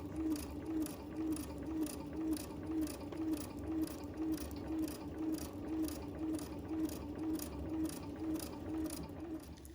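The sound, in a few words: sewing machine stitching vinyl bag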